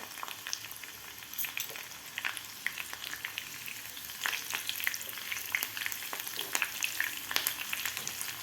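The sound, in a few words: green chillies frying in oil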